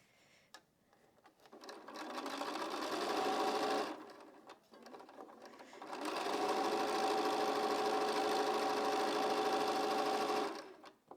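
A sewing machine chain pieces quilt blocks in two steady runs of rapid stitching, close and fairly loud, with a short pause between them and no talk.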